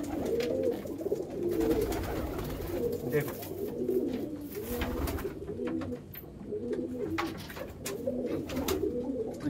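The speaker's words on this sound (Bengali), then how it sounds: "সেই পায়রাগুলো আপনাদের দেখাচ্ছি।" Pigeons coo in a steady, repeating low rhythm close by, a whole flock of pot-pulled birds murmuring continuously while someone speaks over them.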